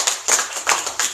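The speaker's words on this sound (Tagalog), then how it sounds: "Palakpak po sa Lord." A church congregation claps during a Sunday service, several bursts of hand claps crowding together in uneven waves for about a second with no talking over them.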